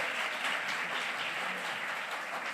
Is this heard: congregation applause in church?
yes